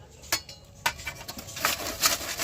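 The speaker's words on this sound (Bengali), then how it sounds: "আর গ্রেটার দিয়ে কিন্তু এইভাবে গ্রেট করে নিলে খুব তাড়াতাড়িও হয়ে যাবে।" Momo ingredients being grated on a handheld grater in a kitchen, a run of quick scraping strokes with sharp metallic ticks, close and moderately loud, no talking.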